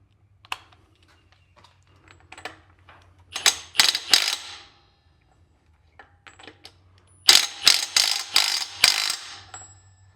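A ratchet tightens the pinion nut on a truck's rear axle, heard as bursts of rapid clicking separated by quiet pauses, close and fairly loud.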